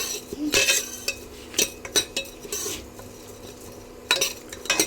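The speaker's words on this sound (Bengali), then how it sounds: "আর এখন আমি এবারে আমি এইভাবে চালটাকে নাড়তে থাকবো" Rice is stirred in a pressure cooker on an induction cooktop to dry-roast it for puffed rice. A metal utensil scrapes and clinks against the pot in irregular close bursts, with quieter gaps between strokes and no speech.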